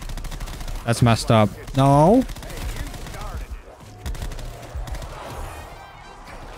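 Burst-fire SMG shots in Black Ops 4 zombies mode Dead of the Night, clipped rapid bursts scattered among game music, hits and effects, with a player's voice talking over them.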